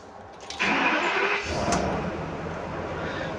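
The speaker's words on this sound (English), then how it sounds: "It's a Ford V10 Triton engine." A Ford V10 Triton engine in a 2013 Coachmen Mirada 32 DA motorhome cranks briefly and catches, then settles into a steady close idle rumble.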